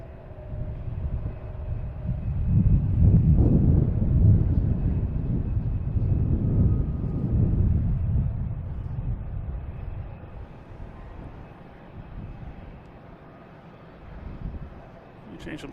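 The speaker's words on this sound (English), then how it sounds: "we got Southwest taking off, heading to Nashville" A Southwest airliner heading to Nashville takes off at Boston Logan, its low engine rumble building early, holding, then fading into distance amid wind noise on the microphone.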